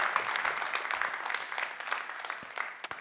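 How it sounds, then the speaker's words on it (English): Audience applause for Colonel Zimmermann at a centennial talk event, a steady wash of many hands clapping at moderate loudness with a few sharper claps standing out, no voices over it. "Ladies and gentlemen, give him a big round of applause"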